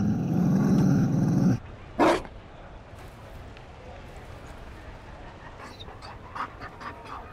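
A Mabari war dog in the video game Dragon Age: Inquisition pants loudly and close for about a second and a half, then gives a short rough burst, followed by quieter game ambience with faint scattered sounds.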